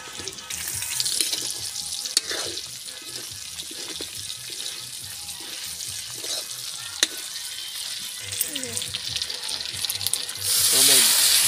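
Water pours steadily from a tap or container into a cooking pot of Filipino lechon paksiw, a continuous splashing hiss with faint clinks and a louder surge at the end.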